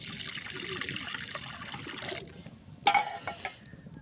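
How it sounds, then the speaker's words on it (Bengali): Water poured into a hot kadai to boil cauliflower gives a steady close trickling wash, then a brief sharp hiss and splash as it hits the hot metal before fading. "কড়া গরম হয়ে গেছে, এবার জল ঢেলে দিচ্ছি ফুলকপিটা সিদ্ধ করবার জন্য।"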